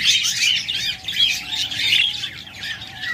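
Pet birds, Japanese pairs among lovebirds, budgerigars and cockatiels, chirp and tweet continuously in a bird shop, a busy overlapping chorus of bright, close calls.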